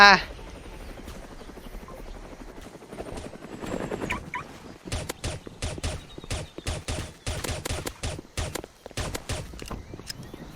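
Aircraft engine drone from the Roblox game Mad City runs steadily under clattering in-game effects and sharp impacts, with a loud burst at the start and players talking over it.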